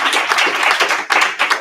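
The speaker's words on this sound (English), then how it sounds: "Just one more round of applause for the wonderful work" A short round of applause at a city council regular meeting, several people clapping in brisk, close, fairly loud bursts that briefly dip before resuming.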